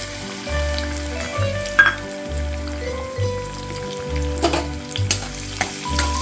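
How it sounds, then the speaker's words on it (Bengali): Chopped garlic and black cumin frying in oil for a Bengali cabbage mash, a loud continuous sizzle with a rhythmic low humming pulse and a few sharp spatters and spoon clicks. "এবার এর মধ্যে দিয়ে দিচ্ছি রসুন কুচি"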